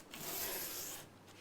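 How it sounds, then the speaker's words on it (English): A guitar nut is sanded flat by hand on an acrylic SG-style guitar, giving a close, soft, continuous rasping rub that swells for about a second, pauses, then resumes briefly. "you get the feel for sanding it down till it's flush and the face is nice and flat"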